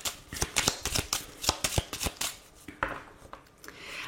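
A 32-card deck is shuffled by hand during a French card reading, a quick run of crisp riffling flicks and slaps close by, with no talk.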